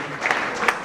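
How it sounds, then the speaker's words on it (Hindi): Audience at a motivational seminar at Phoenix IIT Academy clapping for a young student, a short burst of dense applause from a hall crowd. "एक बार फिर से जोरदार तालियां बच्चे के लिए।"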